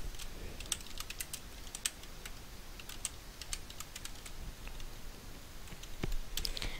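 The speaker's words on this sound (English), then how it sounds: "I stink at typing." Fast, uneven keystrokes on a computer keyboard click away in a quiet room, a steady patter of light taps with occasional harder strikes and a small burst of louder clicks toward the end.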